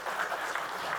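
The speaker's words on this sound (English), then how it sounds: "We can applaud you." Brief burst of audience clapping after a cybersecurity conference talk on the space sector, steady and moderately close, lasting about a second.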